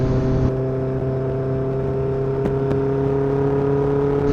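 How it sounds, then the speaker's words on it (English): A classic Honda CB900F motorcycle engine hums steadily with throaty induction noise, close and loud, with a couple of faint crackling pops on the overrun partway through. "I hope you can hear the little pops and crackles as well on the overrun"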